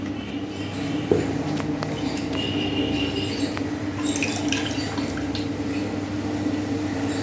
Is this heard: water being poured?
yes